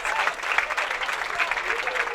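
A bowling crowd at the 2019 U.S. Amateur stepladder finals applauds in a loud, dense, sustained roar of clapping that continues without a break.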